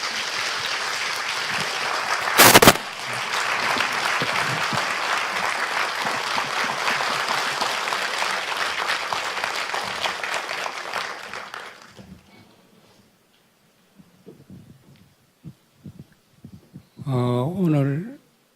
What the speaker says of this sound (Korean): 기다린 만큼 큰 박수로 모시겠습니다